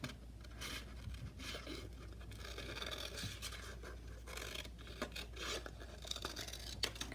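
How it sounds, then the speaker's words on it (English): Scissors cutting out a paper star, with quiet close rasping snips and paper rustle in an irregular run of cuts. "we've cut out our star"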